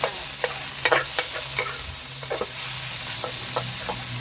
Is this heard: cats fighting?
no